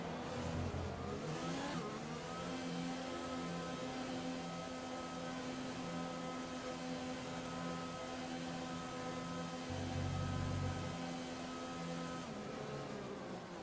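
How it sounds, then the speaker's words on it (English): An F1 2020 race car on the Mexican Grand Prix grid, a McLaren doing wheel spins to warm its tires: a steady, sustained high engine drone with a deeper rev surge near the end, loud and alone. "Do some more wheel spins to get that tire temperature up"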